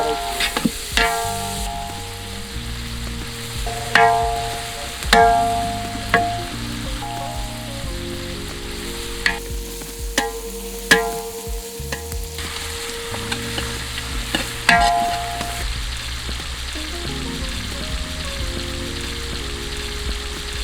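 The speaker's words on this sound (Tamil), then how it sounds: "ஆனியன் நல்லா வதங்கி விட்டுது" A kilo of onions and six or seven green chillies sauté for country chicken biryani, a steady sizzle punctuated by regular heavy stirring scrapes and knocks against the pot, with no talking.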